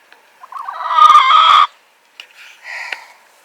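A hen squawks and clucks in loud, frantic bursts while a predator grabs her in a backyard chicken run at night. A long agitated cry is followed by a short pause and a second, weaker squawk, with no one talking.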